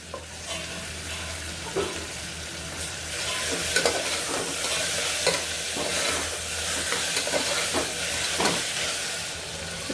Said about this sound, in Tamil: நல்லா வதங்கி வரட்டும் தக்காளியும் வெங்காயமும்